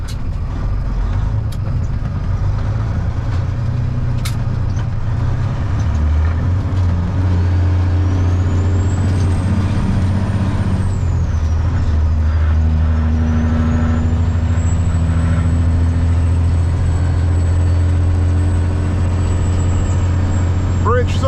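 A livestock truck crosses the Ohio River bridge from Kentucky into Illinois with its engine brake on, giving a loud, steady, low diesel rumble close by that holds and deepens for the whole stretch.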